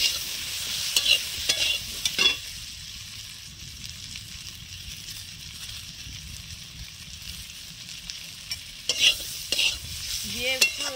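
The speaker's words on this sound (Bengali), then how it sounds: "আমি খুন্তি দিয়ে নাড়াচাড়া করে মশলাটা ভালো করে এর সঙ্গে মিশিয়ে নেব।" Turmeric and chili powder being stirred with a spatula into karamcha pickle, heard as soft scraping and stirring over a low sizzle, with sharper bursts of scraping near the start and end.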